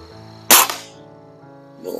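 A Webley air rifle fires a single sharp shot at a target, a loud crack with a short ringing tail, standing out over low steady background noise.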